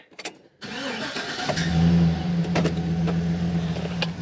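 A car engine cranks and starts in a hardware store lot, then settles into a steady, fairly loud idle and drive-off rumble with a few light clicks over it.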